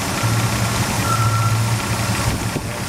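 A dually truck engine idling with a steady low rumble and faint knocking throughout, close by, with no talking; the air conditioning compressor has bad valves.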